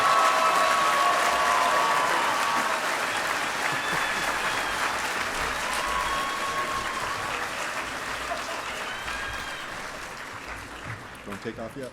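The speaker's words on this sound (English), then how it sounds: "Please join me in a rousing round of applause for the graduates in biomedical sciences." Sustained applause from a large commencement crowd honoring graduates in biomedical sciences at a veterinary medicine college ceremony, steady and dense throughout, fading slightly toward the end, with a few voices mixed in.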